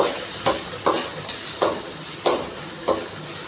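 Ginger-garlic paste for a chicken gravy being stirred as it fries in a pan, with several distinct scraping strokes of the spoon over a steady soft sizzle, close and clear, with no talking.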